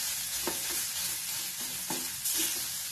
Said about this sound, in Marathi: आता याच्यामध्ये आपण बारीक केलेलं वाटाण्याचं ते घालायचं आणि चांगलं हलवून घ्यायचं